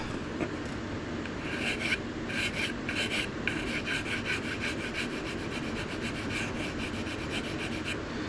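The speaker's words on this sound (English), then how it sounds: "Some of these small voids right here, I may just take one of these super fine files too here." Fine metal file rasping over small voids in a hand-carved wooden wand, a steady run of short scraping strokes in quick even rhythm, close and continuous with no talk.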